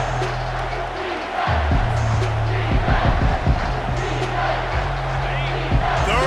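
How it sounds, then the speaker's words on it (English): Stadium crowd roaring through a third-down play in EA Sports College Football 25, a steady loud wall of cheering with low rumbling bursts and thumps, no speech over it. "Third down, and this crowd is tearing the lid off this place."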